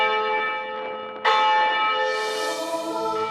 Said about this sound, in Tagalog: kapag umalingaw-ngaw na ang mga kampana mula sa kampanaryo nito